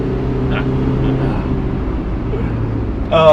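A stock Mazda MX-5 1.6 drives a hill route, its engine holding a steady, loud, even drone, with a brief sharper sound near the end.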